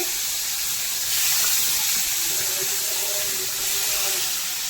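Bitter gourd sizzles in hot oil with cumin seeds and green chilies, a steady, fairly loud hiss and crackle from the pan that lasts the whole stretch, swelling slightly partway through, with no talking.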